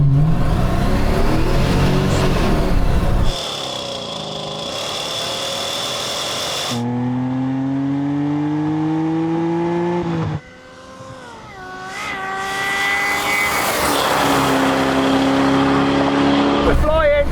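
Race cars in a video game rolling quarter-mile drag race rev hard in a loud close sequence of rising engine whines. Each gear shift breaks the pitch and a brief dip leads into another climb, with a voice heard briefly.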